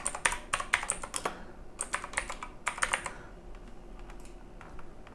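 Typing on a computer keyboard: quick clusters of crisp, close key clicks in several bursts separated by short pauses, fairly quiet and with no voices.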